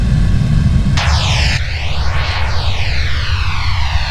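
Roaring Boeing 737 jet engines spooling up during a go-around in the FSX flight simulator, a loud steady rush with sweeping whine tones, no talking.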